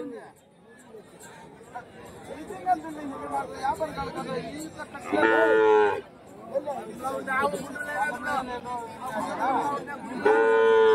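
Cattle at the busy Friday cow market in Kundarapalli, Krishnagiri district, let out a couple of drawn-out lows amid constant crowd chatter and nearby talking.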